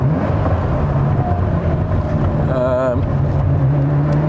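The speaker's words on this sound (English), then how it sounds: "I'm just slowly winding the car up now." A restored Ferrari F40 being slowly wound up on a road test gives a steady, low, rumbling engine drone with wind rushing around it and a brief warbling tone midway.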